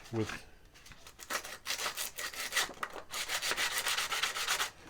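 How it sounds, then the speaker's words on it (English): Hand sanding on a DIY ukulele's wooden body to remove brown burn marks makes rapid, continuous back-and-forth rasping strokes up close, with brief pauses between bursts. "I don't like the wood burn, you know, brown. So I'm going to see if that'll sand off."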